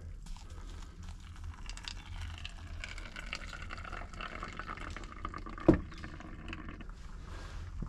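Freshly boiled water poured from a kettle over coffee grounds for a pour-over at an outdoor camp, a soft, faint trickle and splash lasting several seconds with a brief knock partway through.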